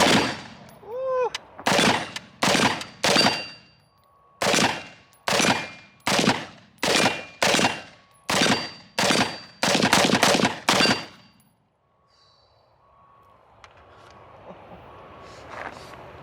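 Rifle gunfire at an outdoor shooting setup: more than a dozen loud, close, sharp reports in quick, slightly uneven succession, followed by a few seconds of near quiet with faint background noise.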